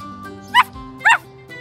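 A cartoon puppy gives two short, high yips about half a second apart, close by, over a faint steady background hum.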